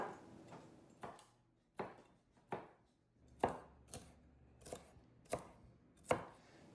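A knife chops a garden-grown green bell pepper on a cutting board, about a dozen sharp, separate thuds at an uneven pace, close and clear in a quiet kitchen.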